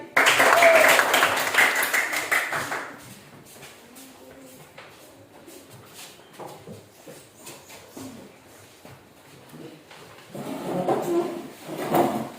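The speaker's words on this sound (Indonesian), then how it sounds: "Tepuk tangan sekali lagi." A school class claps for a group returning to their seats, a short loud burst of applause at the start that fades within a few seconds, followed by quieter room noise and another swell of clapping near the end.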